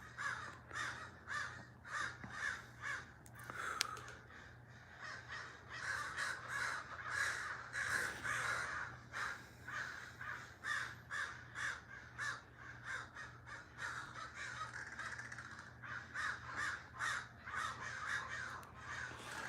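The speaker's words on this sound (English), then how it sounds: "Yeah, the murder crows," A murder of crows caws over and over in dense, overlapping bursts for the whole stretch, loud and fairly close, with a steady low hum underneath.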